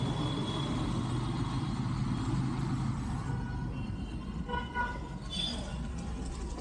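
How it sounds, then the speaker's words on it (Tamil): Busy evening city traffic in Chennai passes around a motorbike on a ride from Velachery to Perungudi: a steady roar of engines and road noise, with several short car horn toots breaking through near the end, and a voice talking. "இப்போ கொஞ்சம் டிராஃபிக்காக தான் இருக்குது."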